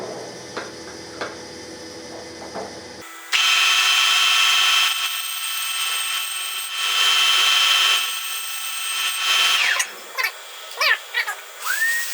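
A taper is machined manually on a car brake drum. Loud, steady, high-pitched tool whirring begins a few seconds in and carries on with brief pauses, then gives way to short squealing scrapes near the end.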